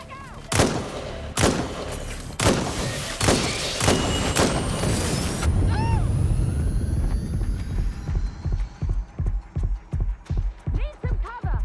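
Heavy gunshots crack out in spaced bursts, then a grenade blast booms with a long rumbling tail, followed by a steady run of rhythmic automatic gunfire in a Watch Dogs Legion firefight, loud and close.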